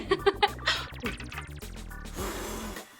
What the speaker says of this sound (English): What you hear is me blowing the bubbles as I blow air from my mouth